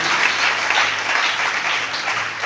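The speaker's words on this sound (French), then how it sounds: "On acclame très fort pour Jésus" A church congregation applauds loudly for Jesus, steady dense clapping from many hands filling the room without pause.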